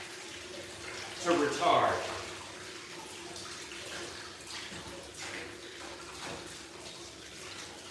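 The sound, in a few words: water running from tap while washing hands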